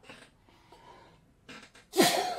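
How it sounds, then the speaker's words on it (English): A person recovering from COVID sneezes once, loud and close, after a few quiet breaths and a sharp intake of air. "I'm going to sneeze."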